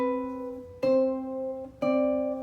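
Ukulele strings plucked during a lesson, two sharp strums at about one-second spacing, each ringing out with bright sustained harmonics and slowly fading, close and clear with no talking.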